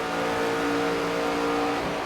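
Race car engine in the NASCAR 25 video game drones steadily at high revs down the front straightaway, loud and continuous, with no talking.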